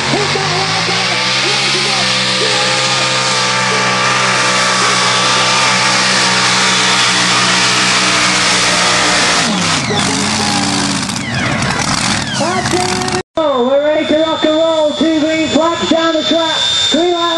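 A Chevy-engined mini rod race car weighing 950 kg runs at full throttle at a racing event, a loud, steady engine drone that bogs and wavers near the end, then snarls and revs in pulsing bursts, with a commentator talking throughout.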